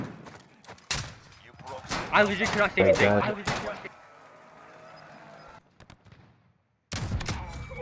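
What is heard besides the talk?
gunfire in a video game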